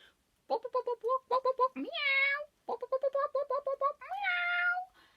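A voice imitates a cat, repeating quick syllables followed by two long, drawn-out meows in a sing-song storytelling manner.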